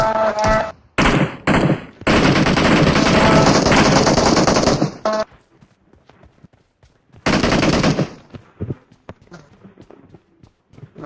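Video game gunfire bursts out in loud, rapid automatic volleys, first in short clusters and then in a long sustained stream, followed by scattered quieter shots and a second burst, with background game sounds between.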